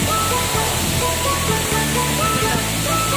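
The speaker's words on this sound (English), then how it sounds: "Tumalog Falls." Tumalog Falls in Oslob, Cebu, gives off a constant, close rush of falling water as a dense, unbroken roar.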